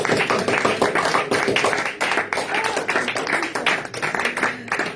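A church congregation applauds, with dense, close clapping that carries on steadily for several seconds.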